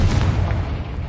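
The Confringo explosive spell in the Hogwarts Legacy video game sets off a loud, deep, booming blast that rumbles for about a second.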